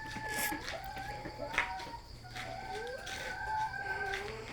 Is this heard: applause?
no